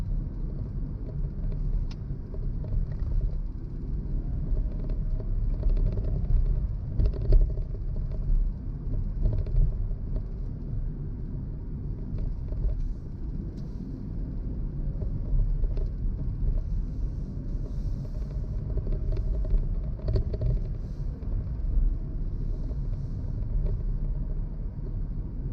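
Car engine and road rumble from inside a moving car on a fairly light-traffic drive near Borehamwood, a steady low drone with slight swells lasting throughout, no talking.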